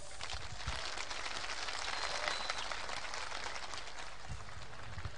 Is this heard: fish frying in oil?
no